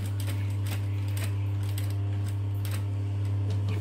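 A sewing machine runs steadily, top stitching a handmade leather wallet, with a strong low motor hum under rapid mechanical clicking of the needle and feed, close and continuous throughout.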